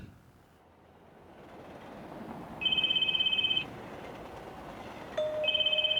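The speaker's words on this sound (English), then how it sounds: "Oh, I hear the ringing." An electronic phone ringtone in the video game Spirit Hunter: NG trills in two repeated bursts over a low rumbling background, steady and fairly clear.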